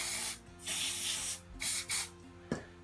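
Lubricant sprays onto the brake pins of a Bugaboo Bee stroller in several close, hissing aerosol bursts, with short pauses between them and a faint click near the end.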